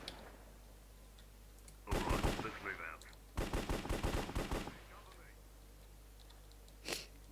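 Rapid bursts of sniper and automatic gunfire in the Minecraft mini-game Cops and Crims, two loud volleys of quick cracks with a single faint shot near the end, over a quiet background.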